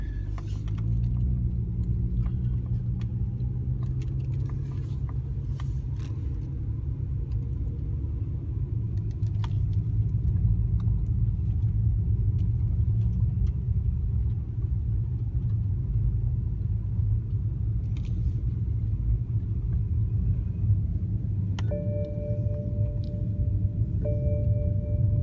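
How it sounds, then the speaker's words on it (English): A car drives slowly through a new-construction neighborhood in Monroe, giving a steady low engine and road rumble throughout, with a few faint chimes near the end. "I'm in the car, and I'd like to drive around the neighborhood just a little bit"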